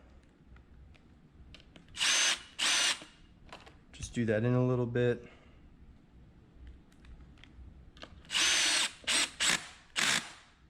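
A DeWalt Xtreme 12v Max DCF601F2 brushless screwdriver drives screws in short whirring bursts, several spurts before and after a brief stretch of someone talking, close and clear.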